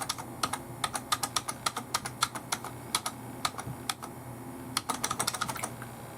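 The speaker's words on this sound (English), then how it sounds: "keep pressing F2 with your keyboard like this" Someone repeatedly presses the F2 key on a Dell Optiplex 7010 MT desktop keyboard: a quick, uneven run of sharp plastic clicks, close and clear, with no talking.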